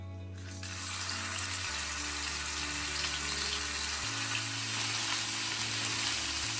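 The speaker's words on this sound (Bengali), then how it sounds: "আদাটা একটু ভাজা ভাজা হয়ে আসি" Ginger and green chili paste frying in hot oil gives a loud, steady sizzle that holds unbroken throughout, with a low hum running underneath and no voices.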